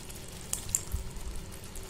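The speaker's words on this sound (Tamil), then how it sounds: "தனி மிளகாய்த்தூள், மஞ்சப்பொடி போட்டு நான் இப்போ எல்லாம் ஒன்று சேர கிளறி விடுறேன்" Chili powder and turmeric fry in a pan with a soft, faint sizzle while a spoon stirs, making a few light scrapes and taps.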